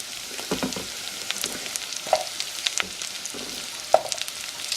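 Carrots dropped into melted butter in a pan, giving a steady close sizzle with crackling pops and a couple of sharp spatters, no talking.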